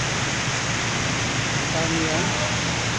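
Heavy rain pours steadily in lower Taguig during a flood, a dense, loud, constant hiss with no break and a low rumble beneath, like water drumming on many surfaces close by.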